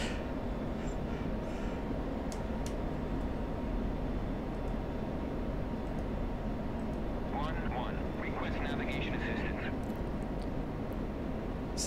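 In the DCS flight simulator, an F-16C jet engine roars steadily during a short landing, a constant broad rumble throughout, with a voice and brief radio-like chirps over it.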